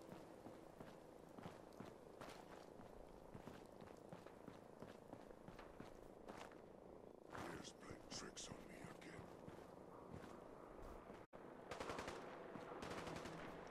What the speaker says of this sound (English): Yay, gunfire.